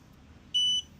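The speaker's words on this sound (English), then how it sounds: "industrial tools makes it extremely easier when it can beep, sound off, and even give you a light indicator" An industrial torque wrench gives a single short, bright electronic beep on reaching 15 foot-pounds while a timing-system bolt is tightened on a 2007 Ford Mustang 4.0. The beep lasts about a quarter second over a quiet background.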